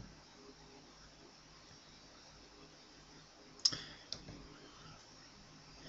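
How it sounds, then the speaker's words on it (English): Two quick, faint mouse clicks sound just past the midpoint against a quiet room background while a Python/PyScripter installer is run under Windows. "I'm going to click Install."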